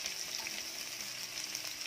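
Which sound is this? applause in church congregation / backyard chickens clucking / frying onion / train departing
frying onion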